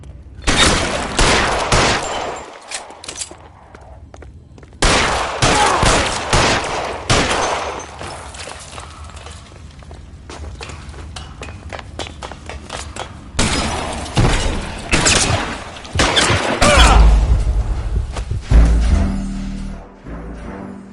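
Gunfire in L.A. Noire comes as loud, close volleys of rapid shots in repeated bursts, mixed with shattering glass and impacts, separated by brief quieter pauses.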